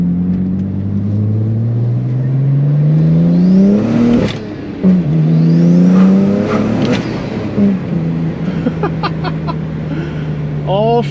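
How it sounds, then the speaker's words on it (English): A BMW 135i built into a 1M clone, running a base map, revs loudly with rising and falling engine sweeps and sharp throttle blips, while people talk over it close by. "Thing sounds sick."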